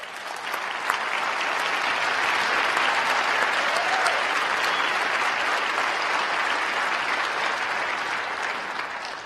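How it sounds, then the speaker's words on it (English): Sustained applause from a large audience at a county government address honoring a sheriff's deputy for bravery, dense and steady throughout. "Would you please stand so we can applaud your bravery?"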